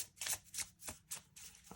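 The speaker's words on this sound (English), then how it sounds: "One more shuffle here." Tarot cards are shuffled in quick, crisp riffling bursts, about five of them in under two seconds. The sound is close and fairly quiet, with no voices.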